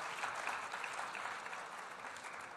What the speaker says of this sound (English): a big round of applause to Save the Children Front for making this happen